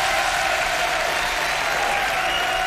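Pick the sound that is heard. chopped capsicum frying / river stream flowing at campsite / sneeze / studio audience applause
studio audience applause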